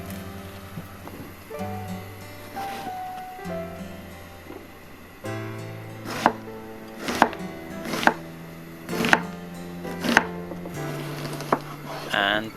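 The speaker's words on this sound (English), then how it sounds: "Onions, then we need a full onion. So you peel it and then you can slice it up." Knife slicing a peeled onion on a cutting board, a run of crisp, evenly spaced chopping taps close up, with faint background music underneath.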